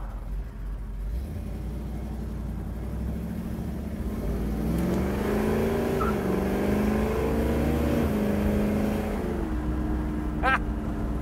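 A 1969 Chevelle SS 396 with a big-block V8 rumbles and revs while driving, a deep throaty engine note rising and falling steadily from inside the car, loud and continuous with no talk over it.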